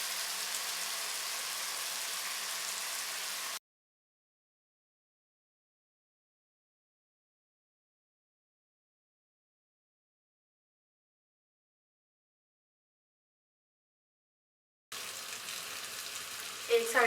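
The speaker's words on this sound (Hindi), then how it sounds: "मीडियम आंच पे चिकन को पकाएंगे।" Chicken cooks over medium heat in a simple pan, giving a steady, fairly loud sizzle for a few seconds. A long silent gap follows before the sizzling returns near the end, with a brief sharper spike.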